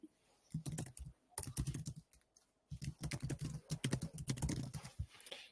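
Notes typed on a computer keyboard during a meeting about writing minutes: close, quiet bursts of rapid key taps in several runs separated by short pauses, with no talking.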